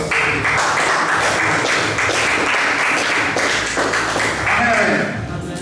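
A church congregation applauds, a steady dense wash of clapping that fills the space for several seconds, with voices mixed in beneath it.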